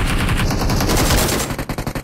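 Automatic gunfire in the mobile battle royale game PUBG Mobile, a loud sustained burst of rapid shots that runs continuously for over a second before breaking into separate trailing cracks.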